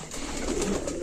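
Pigeons cooing on a rooftop where chickens and pigeons are kept, a soft low murmuring coo that stays close and steady through a brief moment, with no talk over it.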